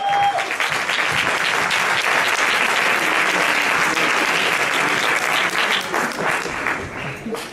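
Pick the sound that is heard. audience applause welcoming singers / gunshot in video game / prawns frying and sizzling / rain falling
audience applause welcoming singers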